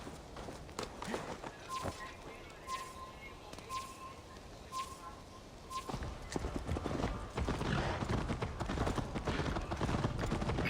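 Hooves clip-clop steadily as a horse walks and trots in Assassin's Creed Valhalla, set in Viking-age England on the road toward Jorvik, with a soft game ambience underneath and no talk.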